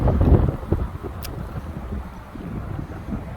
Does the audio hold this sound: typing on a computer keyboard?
no